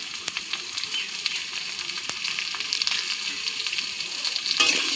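Salted potatoes fry in a pan with a steady close sizzle, broken by occasional sharp clicks and utensil taps and a brief louder clatter near the end, with no voices.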